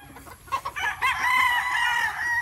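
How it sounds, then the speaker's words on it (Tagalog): Roosters crow and chickens cluck on a poultry farm in Davao, Mindanao. Several loud, drawn-out crows overlap near the microphone after a few short clucks, with no talking. "Ito yung mga manok dito"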